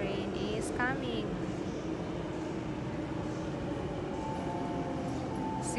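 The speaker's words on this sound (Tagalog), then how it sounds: "And the train is coming." A train pulls into a station near a shopping mall in Hong Kong with a rising whine and rumble, a brief tonal squeal, and a steady roar under a busy, echoing background.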